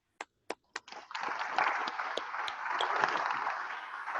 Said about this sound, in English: Please join me and give a round of applause for our Hall of Famer Gold Jacket, Mr. Larry Little.